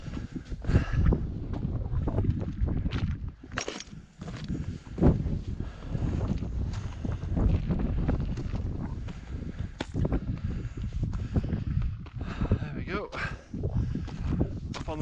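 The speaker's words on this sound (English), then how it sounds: "Go off on the ridge now, be a bit windier there." Gusty wind buffets the microphone on an exposed mountain ridge walk around Y Garn, roaring in broad, uneven surges that stay loud and close throughout, with no other sounds standing out.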